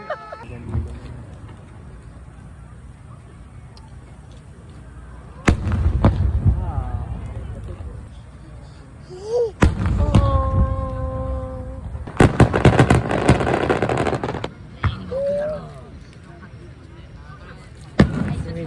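Fireworks burst with loud booms and crackling, several explosions spread over time at a fireworks festival, while people nearby talk and exclaim in Filipino.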